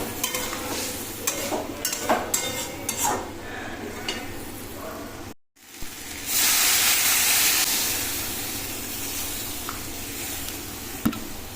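Green chillies dropped into a simmering Bengali hilsa fish curry with potato and brinjal, giving a loud, sustained sizzle and steamy hiss after earlier clinks and stirring of the pan.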